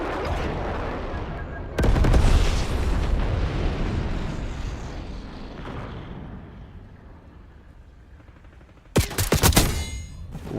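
Gunfire and explosive bursts from the Call of Duty video game, a dense loud barrage that eases off, then a sharp burst of rapid shots near the end.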